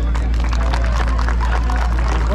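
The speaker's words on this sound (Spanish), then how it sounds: "¡El aplauso!" Wedding guests applauding the bride and groom: a loud burst of crowd clapping mixed with cheering voices and general hubbub.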